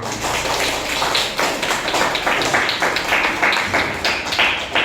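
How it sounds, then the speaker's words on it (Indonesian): A classroom of students claps for a classmate, a busy, uneven patter of many small hands with some sharper individual claps standing out, fairly close and continuous. "Kasih tepuk tangan dulu untuk teman kalian."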